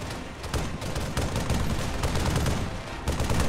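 Continuous weapon fire in the military shooter ArmA 3, a dense, loud wash of overlapping shots and bursts with a few sharper cracks standing out.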